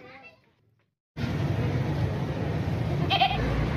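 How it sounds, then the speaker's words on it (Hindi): A heavy, long-eared, large-breed goat offered for sale bleats once, short and fairly near, over a steady wash of outdoor noise after a brief spoken opening. "बकरा है और हैवी बकरा साथ, नस्ली नकोड़े वाला लंबे कानों वाला बकरा है"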